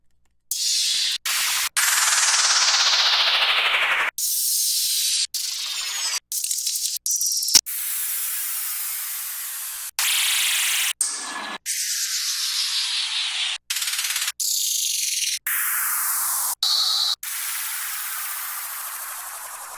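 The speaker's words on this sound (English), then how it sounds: "I usually like to start with a white noise down." Repeated white noise down-sweep effects, each a loud hissing burst falling in pitch, auditioned one after another in a drum and FX intro session with short silent gaps between them, no voices.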